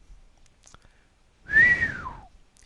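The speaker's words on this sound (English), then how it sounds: "The bearded repairman whistled." A single man's whistle, loud and close, rising then sliding downward in a drawn-out admiring tone, against a quiet background.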